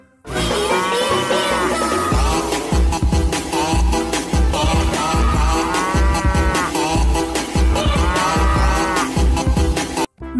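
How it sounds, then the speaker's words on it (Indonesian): A cartoon cow moos a few times over loud, busy music that plays continuously from start to finish. "Wow, wadidaw, ada sapi."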